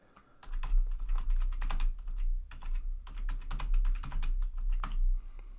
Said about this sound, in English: So I'll just type in this very first cell, import Pandas as PD.